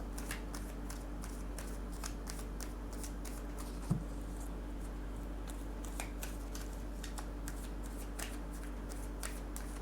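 Tarot cards being shuffled and drawn from a deck, a series of soft, close papery riffles and flicks repeating through the whole stretch over a low steady hum, with one brief thump partway in.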